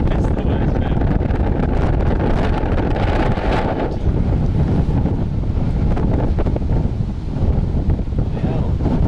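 Strong wind roars and buffets the microphone on an old Soviet swinging fairground ride in Tiraspol, with loud, continuous gusting throughout.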